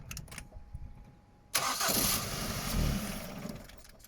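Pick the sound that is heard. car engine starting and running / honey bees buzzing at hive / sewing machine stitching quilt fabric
car engine starting and running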